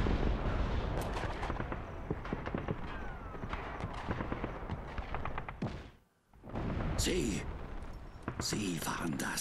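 Dense gunfire and explosions crash through a battle in the video game Just Cause 3, with loud continuous shots and blasts, a brief drop to near silence, then more bursts, while people talk over the noise.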